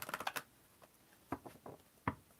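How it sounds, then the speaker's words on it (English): A deck of tarot cards is shuffled, giving a quick burst of crisp riffling flutters followed by a few separate soft card taps and slaps, close and quiet with no voices. "One more shuffle."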